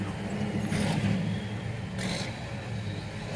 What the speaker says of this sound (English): There's a loud truck there.